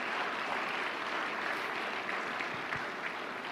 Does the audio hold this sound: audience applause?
yes